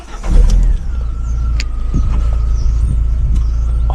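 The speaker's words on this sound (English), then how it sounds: "Ignition. Car starts." A car engine catching at ignition during a no-start troubleshooting check: a loud low rumble that surges briefly, then settles into a steady idle, with a faint electrical whine running through it.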